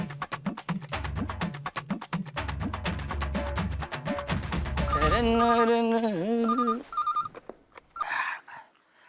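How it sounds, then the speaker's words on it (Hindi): A phone rings through a speaker on an outgoing call, with rhythmic tones amid music before a clearer electronic ring pattern sounds. "अय्यर को फोन लगाता हूँ।"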